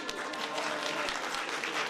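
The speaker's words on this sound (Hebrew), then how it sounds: "אפשר למחוא כפיים כשאתם שומעים את זה" An audience claps continuously at a reunion gathering of youth movement alumni, warm steady applause with faint crowd murmur mixed in.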